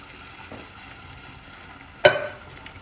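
Chopped tinned tomato sauce stirred in a pot, a soft quiet scrape with a faint simmering hiss and one sharper clink of the spoon near the end.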